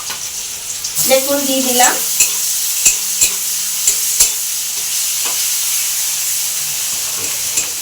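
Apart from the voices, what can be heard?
frying chopped ingredients and spices in a pan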